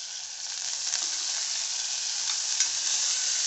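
A tomato mixture for pearl millet khichdi sautés in a hot pan, giving a steady, close, even sizzle with faint scraping, loud and uninterrupted throughout.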